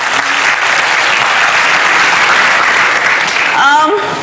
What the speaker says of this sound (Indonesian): Kita kasih tepuk tangan dong untuk Butet.